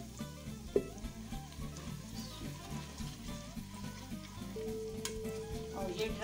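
Garlic and ginger paste fries in a pan for saag, giving a steady, moderate sizzle with soft stirring scrapes over a low, tonal background hum.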